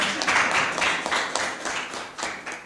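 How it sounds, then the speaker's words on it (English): A round of applause for a chairman at a diaspora gathering, a small group clapping in uneven bursts for a few seconds, fairly close and moderately loud, with no voices over it. "Round of applause for our chairman"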